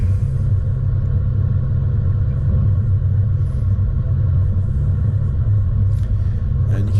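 A 4WD crawls over exposed, sharp-edged rock on a rugged mountain track. Its engine gives a deep, loud, steady rumble throughout, with a few faint knocks near the end.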